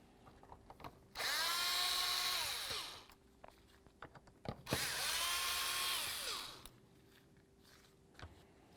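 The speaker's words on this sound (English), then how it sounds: "You want to remove the 2 bolts that hold the mass airflow sensor to the box itself." A power tool spins out the bolts holding the mass airflow sensor on the air box of a 2003-08 Toyota Matrix, in two loud whirring bursts of about two seconds each, with clinks and handling noises between them.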